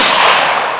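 A front-rank volley of muskets fired by Civil War reenactment infantry, one loud, close, broadband blast that fades over under a second, with no talking.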